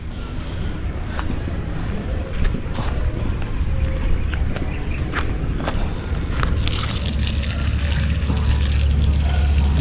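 Water flows and splashes steadily while plants are being watered in a garden, a continuous near rushing pour with irregular spatters, growing louder toward the end.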